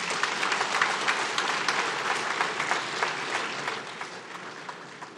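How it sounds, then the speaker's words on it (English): Sustained applause from an audience at a Lake Chad Basin governors' forum in Maiduguri, a dense wash of many hands clapping steadily for about five seconds and easing slightly toward the end, with no talking over it. "A bigger round of applause, please"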